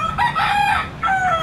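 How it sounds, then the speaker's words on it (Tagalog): A rooster crows nearby, two drawn-out calls in quick succession, loud and clear over faint background noise. "Pasensya na kayo sa mga manok din"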